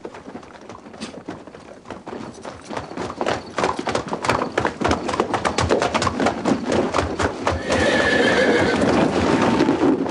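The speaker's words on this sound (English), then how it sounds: "The horse is really good." A horse neighs and whinnies while hooves clip-clop in a quickening rhythm, growing louder and busier toward the end.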